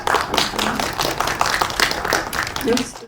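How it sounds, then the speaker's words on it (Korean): A crowd claps steadily in sustained applause at a press screening Q&A for a Korean documentary film, while a voice speaks over the clapping. "큰 박수 한번 부탁드리겠습니다"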